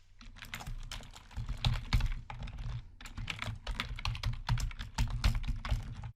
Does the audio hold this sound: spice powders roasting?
no